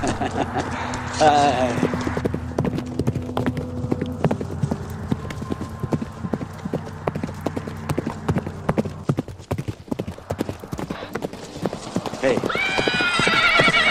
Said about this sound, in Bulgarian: Ала войвода Борис бе подкарал вече коня си след него.